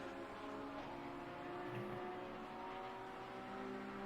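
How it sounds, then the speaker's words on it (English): McLaren race car in Assetto Corsa Competizione at Misano, a distant, faint engine drone with a slight rev swell near the middle, steady throughout. "He's doing pretty well at the moment in the McLaren."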